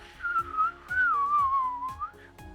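A person whistles a wavering melody imitating a bird call in clear rising and falling tones, with soft low thumps in the background.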